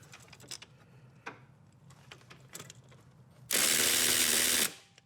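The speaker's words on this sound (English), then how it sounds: "I'm going to go ahead and put my battery powered ratchet on here and get down in there on that" A battery-powered ratchet spins a bolt loose in a tight spot, with a loud continuous buzzing whir lasting about a second after a few light clicks and taps.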